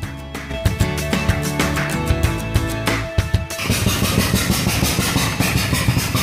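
A neighbor's lawn mower engine with a loud, failing muffler runs steadily at mid pitch, its rough putter punctuated by sharp pops and then settling into a busier, ragged idle.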